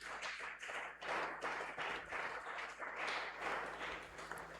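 A congregation applauds loudly at a June dedication prayer service, a dense, sustained wash of clapping with rhythmic pulses, close and continuous throughout.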